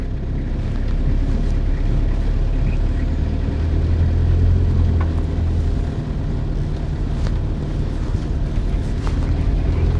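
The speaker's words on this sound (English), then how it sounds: "Proper old school diesel engine, but actually quite refined, I think, for a big old 4-pot diesel." A big old four-cylinder diesel engine in an LDV (Leyland DAF) 400 Sherpa camper van drones steadily from inside the cab while driving, a constant low rumble with road and wind noise, no talking.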